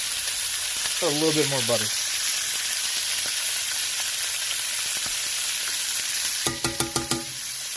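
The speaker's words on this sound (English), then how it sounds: "we're going to start to baste it with our spoon" Steak frying in a cast iron pan while basted with butter from a spoon, a steady loud sizzle throughout with a few spoon clinks near the end, and a voice speaking briefly partway through.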